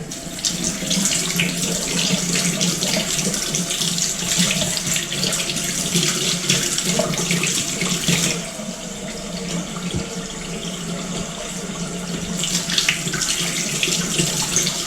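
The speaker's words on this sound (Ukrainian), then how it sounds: "з яких я дістаю огірки, промиваю і докладаю" Pickled cucumbers are rinsed under a running kitchen tap, a steady loud gush of water filling the whole clip with slight shifts as the cucumbers move through the stream.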